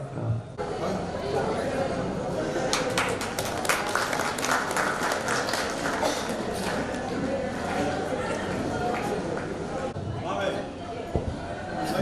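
An audience at a gathering claps in welcome for guests, a sustained crackle of many hands that swells after a brief pause, with people talking and murmuring underneath.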